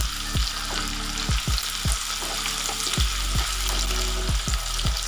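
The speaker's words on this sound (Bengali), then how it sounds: "পেঁয়াজ আর রসুন ভালোভাবে এবার নাড়াচাড়া করে নেব" Chopped onion and garlic frying in oil for dhaba-style dal palak, a steady close sizzle broken by regular stirring strokes and light spatula knocks.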